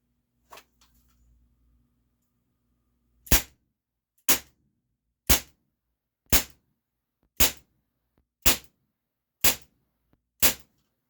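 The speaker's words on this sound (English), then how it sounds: "We'll just go ahead and pull it out, rack it, and then shoot." A Beretta PX4 CO2 air pistol is racked with a brief mechanical clack, then fired eight times in a steady rhythm, each shot a sharp, loud, close crack about one second apart with silence between.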